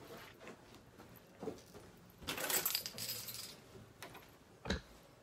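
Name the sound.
keys jangling as they are picked up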